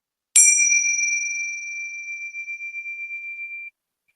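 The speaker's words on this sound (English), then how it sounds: "I have a pair of Tibetan prayer bells, a set of Tibetan prayer bells" A single bright ring of a set of small Tibetan prayer bells, struck once and left to sustain with a clear, pure tone that slowly fades over a few seconds.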